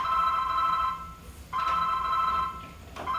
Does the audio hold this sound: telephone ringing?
yes